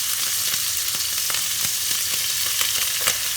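Stir fry sauce hitting a hot pan with Szechuan beef, a continuous sizzle broken by several sharp stirring clicks, close and fairly loud with no talking.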